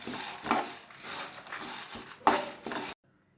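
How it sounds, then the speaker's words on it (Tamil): Sun-dried turkey berries and curry leaves sautéing in a pan, with a few scraping stir bursts and light clatter over a soft sizzle, ending abruptly. "இதையும் போட்டு வதக்குறேன் இதுலையே கொஞ்சம் கருகப்பில்லை நல்லா கொஞ்சம் செவக்கட்டும்"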